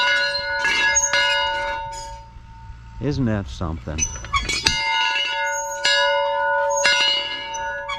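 A loud bell at the historic Ninemile Remount Depot ranger station in Lolo National Forest rings out with bright, lingering metallic tones, struck several times, with people talking and exclaiming between the strikes.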